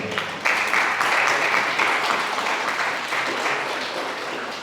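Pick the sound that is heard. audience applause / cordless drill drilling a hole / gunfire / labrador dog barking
audience applause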